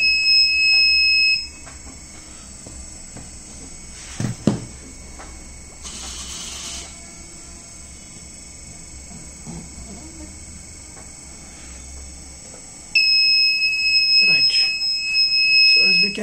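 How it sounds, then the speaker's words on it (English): A steady high-pitched electronic buzzer on an Arduino metal detector robot sounds when metal is detected, stops for a long gap filled with faint clicks and handling noise, then sounds again continuously. "So whenever the metal detected, so it will give the buzzer."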